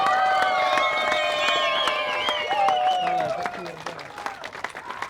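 At an outdoor karting track awards moment, a crowd claps and cheers for the race winner while loud music plays over it, the applause spread out and mid-distance, tapering toward the end.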